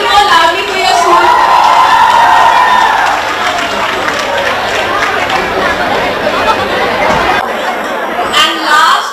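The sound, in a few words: school crowd cheering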